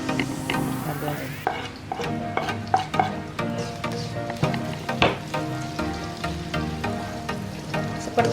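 Thinly sliced shallots fry in reused cooking oil on a home stove, giving a steady bubbling sizzle. Repeated sharp clinks and scrapes of a utensil stirring the pan sound close and loud, and no one speaks.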